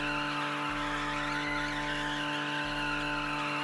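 Car tires squealing through a burnout in the racing game Test Drive Unlimited Solar Crown on PS5, a steady loud screech layered over a droning engine, with faint rhythmic low pulses and no voices.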